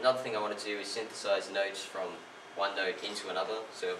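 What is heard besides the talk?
No everyday noises stand out.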